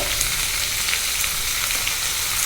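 Low-oil chickpea, pumpkin and potato curry sizzles in a pan as the pumpkin is sautéed with salt and turmeric, a dense, even crackling hiss that runs steadily throughout with no talk.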